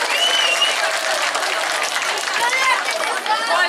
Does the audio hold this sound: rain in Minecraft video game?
no